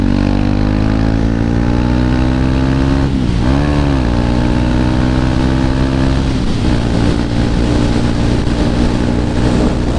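A KTM 390 Duke motorcycle being ridden holds a loud, steady engine drone with strong harmonics, rising and falling briefly as the rider shifts and revs, heard up close without any talking.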